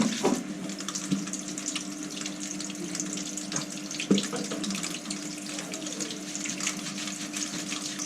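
Steady running water from a shower spraying while a wet dog gets washed, a continuous close hiss with a few brief knocks and splashes over it, no talking.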